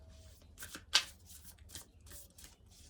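Quantum Oracle cards are shuffled by hand in quick, soft riffling bursts, several brushing flutters in a row with one sharper snap, close and fairly quiet with no talking.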